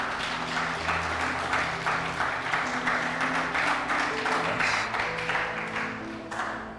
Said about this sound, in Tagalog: tuloy natin yung palakpak sa Lord.